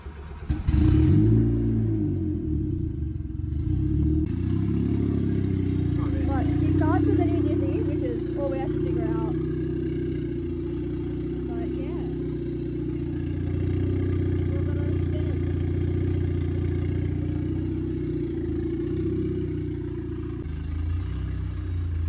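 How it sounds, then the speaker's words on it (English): A boosted Honda Civic engine starts with a brief crank and catch, then settles into a steady, fairly loud idle with slight rev changes, running continuously while a person talks over it. "Alright guys, so we're in the Civic now. Gonna start it up"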